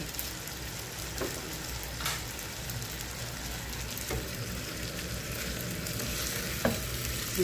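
String beans sautéing with bagoong, vinegar and soy sauce in a pan, a steady close sizzle and hiss with occasional soft scrapes of stirring, no talk.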